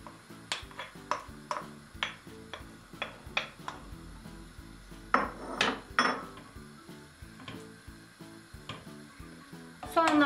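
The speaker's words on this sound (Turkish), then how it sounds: "Hiç beklemeden soğanlarımı da ekliyorum. Bir güzel kavuracağım hafiften." Onions sauté lightly in olive oil in a pot while making stuffed grape leaves, a soft sizzle under repeated sharp clacks of a utensil stirring against the pot, with music playing quietly behind.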